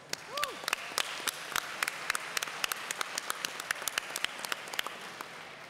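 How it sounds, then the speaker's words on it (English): An audience at a conference session bursts into applause, dense clapping from many hands that starts strongly and continues steadily before thinning slightly toward the end. "Please give them a special round of applause."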